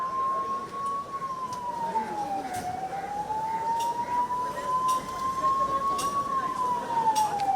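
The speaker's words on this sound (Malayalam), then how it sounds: "നേരത്തെ അപായ സൂചന സംബന്ധിച്ച സൈറൺ മുഴങ്ങി." A long wailing warning siren for a mock emergency drill rises and falls slowly in pitch, sounding at a distance over a low background hum, with faint noises in between.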